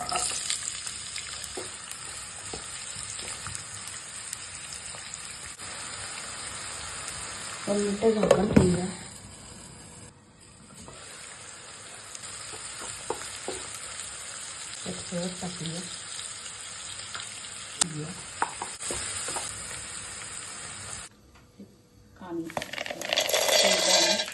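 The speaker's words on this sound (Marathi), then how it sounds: "कढईत तेल टाकलं आहे तेल टाकलं आहे आता कांदा टाकूया" Onion goes into hot oil in a kadhai for a spinach and peanut bhaji, a sizzling fry with a louder burst midway, clinks and stirring, a brief quiet stretch, then more frying near the end.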